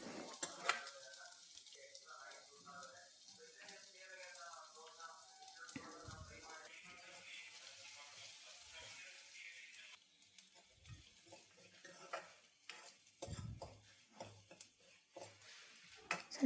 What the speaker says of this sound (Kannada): ಇವಾಗ ಇದನ್ನೆಲ್ಲ ನೀಟಾಗಿ ಬಾಡಿಸ್ಕೊಳ್ತೀನಿ ಇದನ್ನು